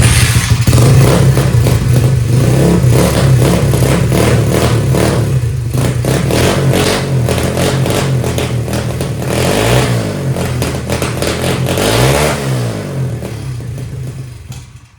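A cheap 140cc pit bike engine from eBay runs rough and clattery, revving up and down in uneven bursts, close and loud with no talk over it.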